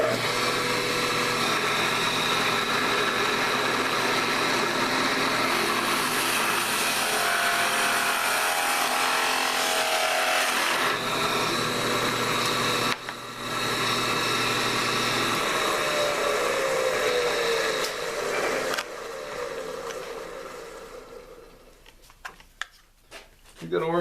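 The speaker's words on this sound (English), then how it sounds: "I've got to drill a hole in these mounting plates so I can run the conduit connector into that" A drill with a spade bit bores through a plastic PVC mounting plate, a continuous whirring grind that holds steady before cutting off near the end, while someone talks.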